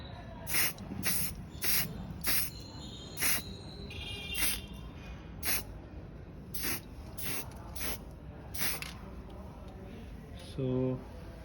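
Spray paint coat misted onto a vehicle exhaust, a series of sharp hissing bursts of about half a second each, repeated roughly a dozen times in an irregular rhythm, close and fairly loud over a noisy background.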